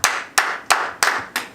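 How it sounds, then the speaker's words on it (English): A church congregation claps in unison during a sermon, five sharp, evenly spaced loud claps with a short reverberant tail after each one. "Clap for Jesus."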